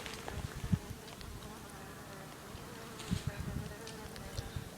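A bee-like fly buzzes faintly outdoors in a few short bursts that rise and fall, with quiet ambient noise between them.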